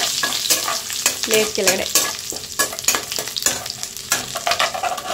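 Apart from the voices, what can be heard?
whole spices frying in a pan, kasuri methi, cinnamon, cloves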